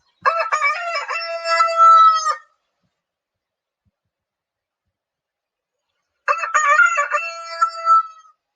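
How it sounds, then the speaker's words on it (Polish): A rooster crows loudly and close by, then after a few seconds of silence crows a second time. "to był kogut, kolorowy kogut"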